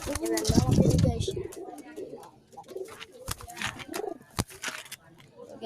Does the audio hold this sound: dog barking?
no